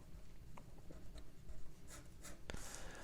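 Pen writing on paper while working a math exam problem, a few faint scratchy strokes and taps in quick irregular bursts, close and quiet.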